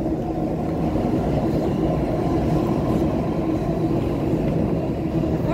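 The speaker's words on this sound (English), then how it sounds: "Train." A train rumbles past on a railway near Sydney Harbour Bridge, a steady, loud, continuous roar with a clattering texture and no talk over it.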